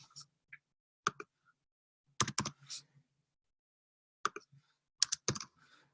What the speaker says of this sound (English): So I'm just typing these in.